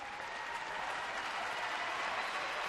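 A Swedish crowd at the men's final of the 2012 European Curling Championships applauds a good shot, with steady, dense clapping throughout and faint crowd murmur underneath.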